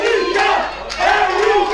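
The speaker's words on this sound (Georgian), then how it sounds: "სკანდირებენ ელიგის გულშემატკივრები" L League FC supporters chant in the stands at a football cup final, a loud massed crowd of voices rising and falling in a rhythmic sung chant that carries strongly throughout.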